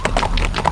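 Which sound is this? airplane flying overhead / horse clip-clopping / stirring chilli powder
horse clip-clopping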